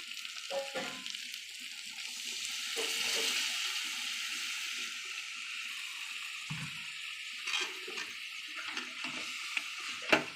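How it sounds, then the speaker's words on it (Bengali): Water is poured into a hot pan of green chicken curry, giving a broad hissing sizzle that swells and fades with bubbling and a few spoon scrapes and clinks, no voices. "এবার পরিমাণ মতন জল দিয়ে দেবো"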